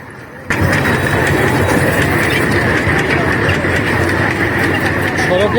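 Train or vehicle rumble starting abruptly and holding loud and steady with a constant engine drone and mechanical noise, close by, while people talk under it.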